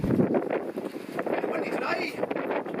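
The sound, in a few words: wind blowing into microphone outdoors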